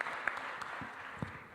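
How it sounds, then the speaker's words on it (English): Audience applause for panelist Mildred Lewis at an educational summit at Laney College, a steady spatter of clapping at moderate level, slightly distant, with a few sharper claps standing out. "Ms. Mildred Lewis, give her a round of applause."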